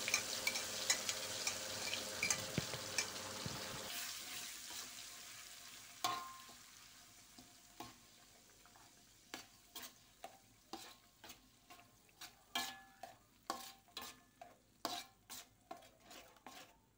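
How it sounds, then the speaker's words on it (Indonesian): Blended peanuts are stir-fried in a pan for somay sauce, with a soft sizzle under repeated scraping and clinking of a spatula against the pan, steady and fairly faint, with no talk. "Lalu kacang yang sudah di blender tadi ini ditumis sampai dengan matang dan"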